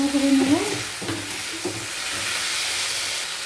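Chopped tomato and spices are stirred in a hot pan for chilli chicken, giving a steady sizzling hiss with a few soft scrapes of the spoon near the start.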